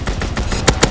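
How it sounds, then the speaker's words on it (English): Rapid automatic gunfire from an aircraft strafing run in Call of Duty WWII, a short, loud burst of closely spaced shots ending in two sharper cracks. "Call for a strafing run."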